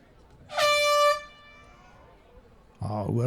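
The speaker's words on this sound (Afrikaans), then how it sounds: "Hoor ons die toeter wat blaas, wat vir die einde van die eerste helfte aankondig." A loud air horn blasts once for about half a second at a rugby club Super League final, marking the end of the first half, followed after a pause by a commentator's voice.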